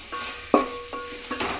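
Ginger paste frying in a hot pan while being stirred: a short burst of sizzling with a few sharp scraping stirs, close and loud, with no voices.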